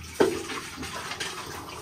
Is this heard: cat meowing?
no